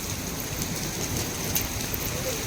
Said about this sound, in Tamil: ஆலங்கட்டி மலையே வேகமாக உழுது டப்பு டப்பு டப்பு டப்பு டப்பு டப்புன்னு வேகமாக